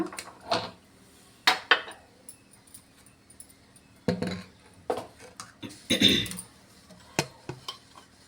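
Kitchen utensils clink and clatter while a tempering (oggarane) is prepared for buttermilk sambar: sporadic metallic knocks and scrapes of pots and spoons, separated by quiet gaps, fairly soft and close, with no speech.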